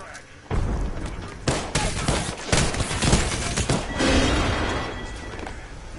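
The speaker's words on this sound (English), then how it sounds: "Deploying frag. Delivering frag." Frag grenade exploding in the battle royale game Apex Legends: a sudden heavy blast amid a dense, noisy mix of gunfire, thuds and game effects, with voices speaking over the chaos.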